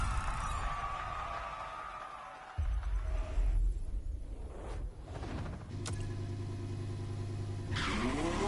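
Citroën GT race car engine in a racing video game, revving loudly with sustained mid-pitched drone, a sharp burst partway through, then steady high-rev roar and a rising shift near the end.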